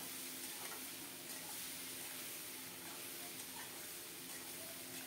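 Strained chora dropped into hot tempering oil, a soft continuous sizzle and faint bubbling hiss that stays even throughout, quiet and close with no voices over it.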